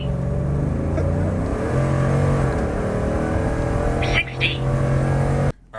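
A Ford F150 truck with a 5.0 Coyote V8 and custom tune accelerates hard, its engine note climbing steadily and loud from inside the cab before cutting off abruptly near the end.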